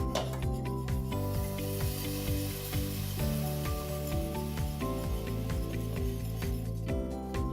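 Three cups of milk going into a hot, thick roux while it is whisked into béchamel for lasagna: a continuous sizzling hiss with rhythmic scraping strokes of the whisk throughout, close and fairly loud, with no talking.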